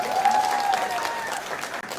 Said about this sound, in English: Can we have another round of applause for that wonderfully expressive piece?